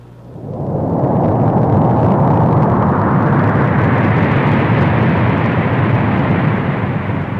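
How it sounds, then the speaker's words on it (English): A small rocket launch: a deep, steady broadband roar that builds quickly after a brief quieter start and then holds loud and unbroken to the end, with no voices. "Army mappers began using space science several years ago with the launching of a small rocket"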